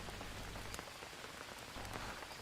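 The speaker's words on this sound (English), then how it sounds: "Put this coconut shell back out. Let it fill up with the rain." Steady rain falls and patters on surfaces in the jungle of the survival game Green Hell, a continuous dense hiss that stays faint with no voices.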